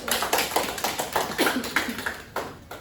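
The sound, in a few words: class clapping for group 1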